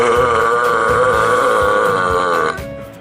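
A single long, loud belch drawn out for over two seconds with a steady, buzzing tone and a faint pulsing beneath it, heard alone before it trails off.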